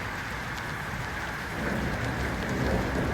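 Steady heavy rain pours outdoors during a thunderstorm, a dense continuous hiss that swells slightly louder partway through, with no voices.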